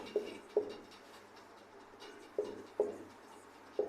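Chalk or marker strokes on a classroom board during a Hindi-medium English grammar lesson, soft and close, landing in short scratchy bursts with pauses between groups.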